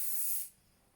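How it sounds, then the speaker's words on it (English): A short, close burst of hissing aerosol spray that stops abruptly after half a second. "So we're spraying hairspray."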